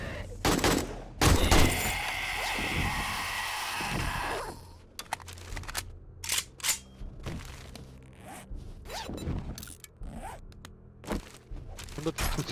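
Gunfire in the video game 7 Days to Die (Darkness Falls mod): a burst of rapid shots, then a string of sharp single reports spread over several seconds amid game noise.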